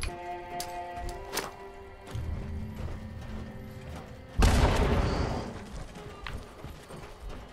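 A rocket launcher explosion in Fallout 76 on Xbox One: mechanical clicks and clatter build up before one sudden, loud blast that fades into a long rumble. Little talk is audible.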